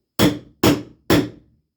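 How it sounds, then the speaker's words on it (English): Chisel struck to shift a springy wooden board in a foyer project, three sharp, evenly spaced hammer blows, close and loud, each with a short woody ring that fades quickly. "I gotta get that board to move over, and it's got a little spring on it, so I'll take my chisel"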